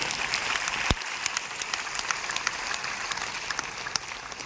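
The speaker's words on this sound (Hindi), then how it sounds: "एक जोरदार ताली" Audience at a DXN gathering breaks into steady applause after a sharp thump, a dense, even clapping that continues at moderate loudness for several seconds with no speech over it.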